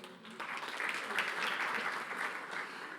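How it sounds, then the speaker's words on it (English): An audience of enterprise leaders at a CIO Power List event gives a round of applause for themselves, heard faint and distant as a steady wash of clapping with no voices. "So you should have a round of applause for yourself."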